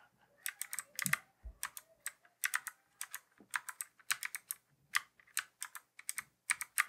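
Keys clatter on a computer keyboard in quick irregular bursts of crisp clicks as shortcuts are entered, close and alone with brief pauses between presses.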